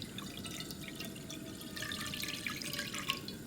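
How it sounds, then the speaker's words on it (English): Unsalted chicken stock poured into a pot over high heat, a soft, steady trickle and splash of liquid lasting a few seconds, close and fairly quiet. "in a pot over high heat, pour in the unsalted chicken stock"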